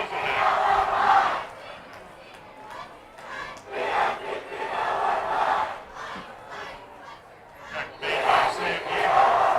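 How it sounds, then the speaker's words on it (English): A loud crowd of high school football fans at a Linn-Mar versus Ottumwa varsity game roars and cheers in repeated surging waves, each swell rising and fading over several seconds. "Those Lions are sure are loud."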